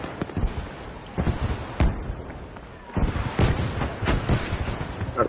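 Artillery fire in the video game Battlefield V: a series of heavy booming impacts and blasts at irregular intervals, loud and fairly close, with faint background rumble between hits.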